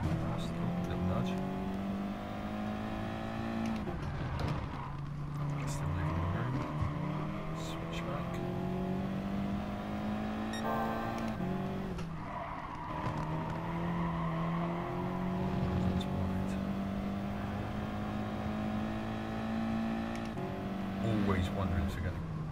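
Race car engines in the Gran Turismo Sport racing game roar continuously, holding a steady drone that swells and shifts pitch with gear changes and revs, while someone talks over them almost the whole time.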